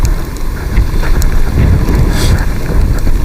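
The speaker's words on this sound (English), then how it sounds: "Ooh, like a headwind." Strong headwind buffeting a moving camera on an outing through Cannock Forest, a loud continuous low rumble of wind noise with gusty swells throughout.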